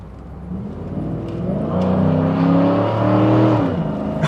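Cadillac Allanté V8 engine pulling steadily while driving, a smooth mid-volume drone that rises in pitch as it accelerates, then eases and builds again, with no talking.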